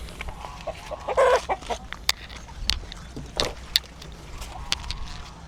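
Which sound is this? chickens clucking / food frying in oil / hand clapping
chickens clucking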